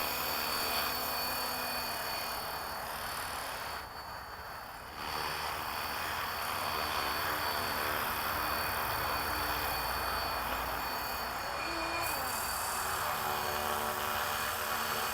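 An FW450 RC helicopter hovers in GPS hold, its rotor and motor giving a continuous, even buzzing whine that stays steady and fairly close for the whole stretch, briefly dipping once before resuming.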